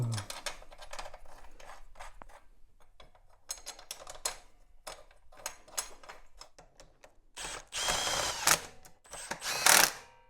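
Heavy-duty foot peg bracket fasteners on a Honda CRF250F frame being tightened with an 8mm Allen and a torque wrench: rapid, close mechanical clicks and ratcheting taps, with denser, louder bursts of clicking near the end.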